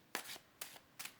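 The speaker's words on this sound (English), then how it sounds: "One more quick shuffle." Tarot cards shuffled in three quick, quiet bursts of riffling about half a second apart, close by with no talking.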